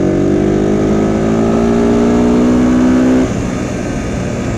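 A 200cc street motorcycle accelerates on a cold engine, its loud, close exhaust note holding a steady drone with rising harmonics before dropping off abruptly near the end.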